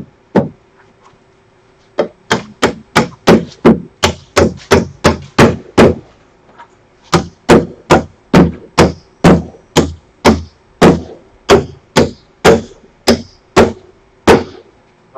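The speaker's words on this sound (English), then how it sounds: "I'm kind of nailing back into the same holes" Hammer blows driving nails into wood while an outhouse is being built: a short burst, a pause, then a long steady run of sharp, loud strikes at a brisk even rhythm, close by with no talk.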